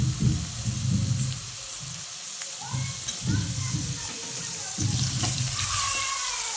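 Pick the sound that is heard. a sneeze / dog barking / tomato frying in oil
tomato frying in oil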